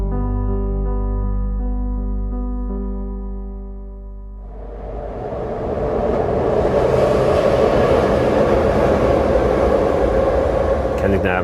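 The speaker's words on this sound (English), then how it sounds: "Kensington Avenue runs under an elevated train, they call it the L." An elevated L train passes overhead on Kensington Avenue, a loud, broad, rumbling roar that swells in after a steady low tonal hum and holds near, with faint rattling.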